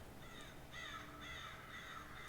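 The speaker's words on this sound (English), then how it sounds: "there's a reason those birds are flying out of that tree" Crows caw in a few harsh, repeated calls from some distance as a flock of birds flies out of a tree, faint over a quiet outdoor background.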